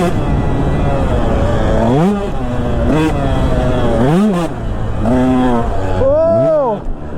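A KTM 125sx two-stroke dirt bike rides a sand track, its loud engine rising and falling through repeated sharp revving surges and shifts, close and dominant throughout.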